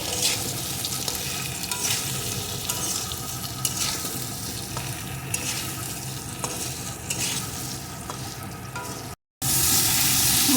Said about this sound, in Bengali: এখন আরও কিছুক্ষণ আমি কচুটাকে মশলার সাথে কষিয়ে নেব